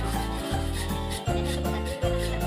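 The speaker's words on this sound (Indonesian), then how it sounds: "Sekali lagi untuk merapikan itu kita amplas ya, amplas dengan ditaruh di sandal gitu biar nekannya itu mudah." Sandpaper wrapped around a sandal rubs back and forth over a wooden wardrobe panel, giving a loud, steady rasping scrape in three long strokes with brief breaks between them.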